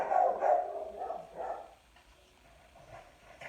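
Dogs bark in a few quick, muffled woofs, somewhat distant and indoors, fading into quieter yips and whimpers toward the end.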